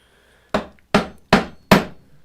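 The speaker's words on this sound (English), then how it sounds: "And you were using the mallet here, right?" A mallet drives a chisel into wood while a dovetail is cut. Four sharp, evenly spaced knocks ring out, loud and close, against near silence.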